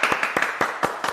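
Audience at a 2021 social innovation forum applauding to welcome a speaker, a short burst of scattered individual claps, close and moderately loud, with no talking.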